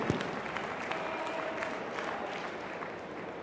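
Crowd applause for two Age of Empires II finalists at a live esports final at a festival, continuous clapping from a sizable audience, heard at a moderate distance and steady over a few seconds.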